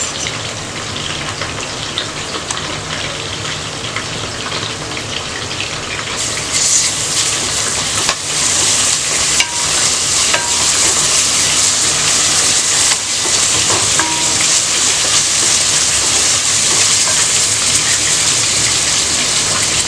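Onions fry with ginger garlic paste for mutton biryani, giving a loud, steady crackling sizzle like heavy rain that jumps brighter and more intense partway through and keeps hissing continuously.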